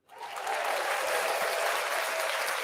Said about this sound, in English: Y'all getting the long clap for that.